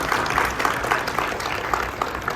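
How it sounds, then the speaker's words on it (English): Moderate audience applause at a Black Caucus job fair held at a Chicago college, a scattered patter of hands from a medium-sized crowd, somewhat distant. "Round of applause."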